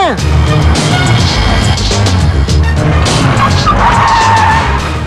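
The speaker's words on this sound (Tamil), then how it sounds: "என்னடா வண்டி நிறைய வர சத்தம் கேக்குது?" Many vehicles arriving at once with tires skidding and squealing, a loud dense wash of engine noise and screeching rubber with a brief impact-like burst near the start, voices faintly mixed underneath.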